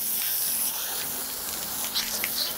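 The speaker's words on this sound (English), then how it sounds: "I'll spray around their eyes first" Hose spray of water around a horse's eyes and face during washing, a continuous close hiss with slight fluctuations and a few brief splashy bursts near the end.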